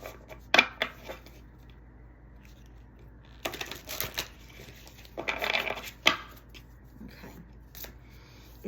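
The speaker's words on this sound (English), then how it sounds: "let me shuffle these cards." Playing cards being shuffled nearby in a quiet room: a few bursts of riffling and snapping, separated by short taps and pauses.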